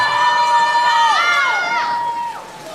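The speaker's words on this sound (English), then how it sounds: "A lot of the girls on the deck here cheering for these 500 swimmers" Girls on the pool deck at a varsity swim meet cheer and shout for swimmers racing the 500, their high, sliding voices carrying across the echoing natatorium.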